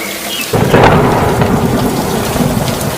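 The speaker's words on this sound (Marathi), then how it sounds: "परंतु त्या रात्री भरपूर पाऊस पडला ढगफुटीच झाली" Heavy rain pours steadily while a deep rumble of thunder rolls in and swells loudly, then settles into a constant downpour.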